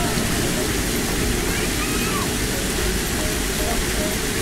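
Water rushing along Roxas Boulevard, a loud, continuous broadband roar like a strong outflow or waterfall that stays steady throughout with no clear voices.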